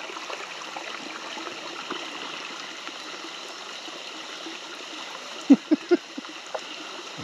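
Small streams trickle on a rainy day in Antlers, Oklahoma, a faint, steady gentle flow of water, broken near the end by a few short knocks or splashes close by.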